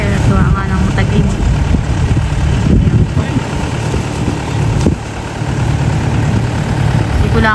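Motorcycle engine idling steadily while hauling harvested rice across dry, firm farmland, a continuous low rumble throughout with people talking nearby over it.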